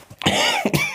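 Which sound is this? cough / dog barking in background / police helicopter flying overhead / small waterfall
cough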